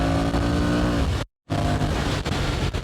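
A Honda Rebel 1100 motorcycle engine downshifts by itself and then pulls hard. The loud, close engine note is cut by a brief silence and then resumes with strong acceleration.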